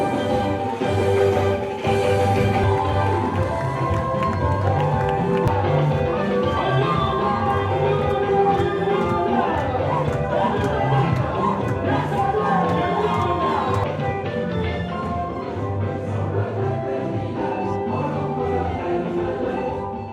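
A loud crowd cheering and shouting continuously for a mayor, with music playing underneath the whole time.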